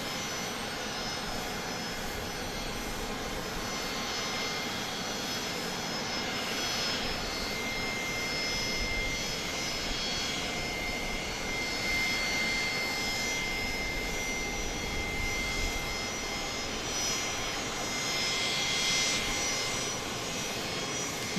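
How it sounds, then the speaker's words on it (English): A business jet at Dallas Love Field at night produces a steady engine whine and rumble heard from a distance, holding fairly constant with a thin high tone running through it. "BizJet that we saw land a short time ago"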